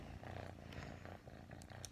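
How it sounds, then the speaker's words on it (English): A young kitten purring close up, a soft continuous rumbling purr with rhythmic breathing pulses, quiet and alone apart from small light rustles. "that is his purring"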